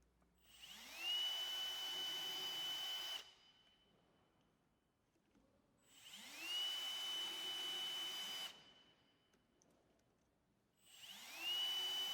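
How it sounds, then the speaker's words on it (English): A power drill whirs up to speed three times in separate bursts of a few seconds each, drilling pilot holes in a folding door's top track, with quiet pauses between, close and clear. "Drill the remaining pilot holes in the top track."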